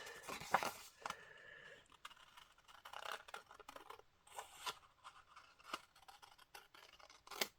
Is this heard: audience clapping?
no